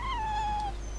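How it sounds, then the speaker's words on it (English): A dog in the Tales of Berseria video game gives a single drawn-out whine that slides gently downward and fades, fairly faint over a low background hum. "Walking hunks of armor I can deal with, but dogs on my ship?"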